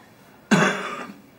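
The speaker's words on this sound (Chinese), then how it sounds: "你怎么咳嗽了？" An older man coughs once, a sudden loud close burst with a rough, fading tail, in a quiet family home.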